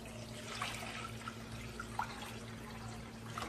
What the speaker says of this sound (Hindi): मैं उबालने के लिए पानी डाल रही हूँ।